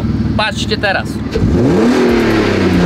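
A Nissan R32 engine in a video game revs up and climbs in pitch after someone speaks briefly, the loud rising drone filling the second half.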